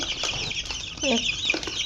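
Young chicks cluck and peep in short, fairly faint bursts over steady background noise on a small backyard setup, with no talking.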